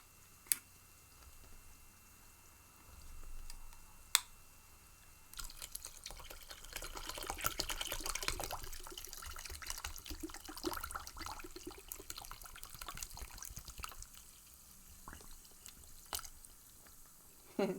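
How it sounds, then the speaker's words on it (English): Liquid fizzing and bubbling while a skull is being cleaned: a faint, continuous crackling effervescence with scattered pops and ticks, close and quiet, with no talk. "That continues to merrily fizz."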